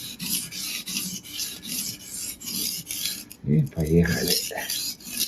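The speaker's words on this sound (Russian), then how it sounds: "с этой стороны точили, ножик переворачиваем. И с этой стороны начинаем угол держать с носика" Kitchen knife drawn across a store-bought whetstone, repeated rasping strokes in a steady back-and-forth rhythm, close up, with someone speaking briefly midway.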